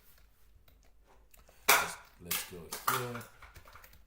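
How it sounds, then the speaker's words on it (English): A sudden clatter of a plate knocked over by a cat onto a hard surface, followed by a couple of rattling bounces, with brief speech nearby. "That's my cat dropping her plate."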